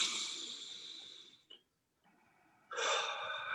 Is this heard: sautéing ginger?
no